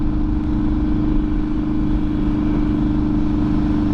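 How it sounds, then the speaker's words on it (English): A car engine pulls at full throttle on a road dyno run, a steady, loud, droning mid-pitched roar with no break over four seconds. "And getting an immediate full throttle."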